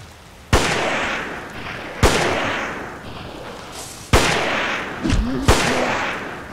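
Gunshots in the Japanese stealth-horror game Forbidden Siren, four or five sharp, loud reports at irregular intervals, each with a short echoing decay, and a faint voice briefly in between.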